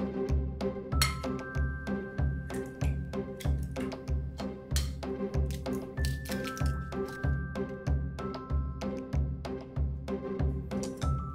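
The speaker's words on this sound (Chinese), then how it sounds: "咱们打10枚鸡蛋" Ten eggs beaten in a bowl with chopsticks: fast, steady rhythmic clicking and wet slapping against the bowl, close and continuous, with no talking.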